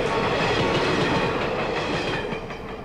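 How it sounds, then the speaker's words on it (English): A train rolls past in an anime episode of Death Note, loud and near, with a steady rumbling roar and rhythmic clickety-clack of wheels that fades slightly at the end. "I almost thought the train ran over the book."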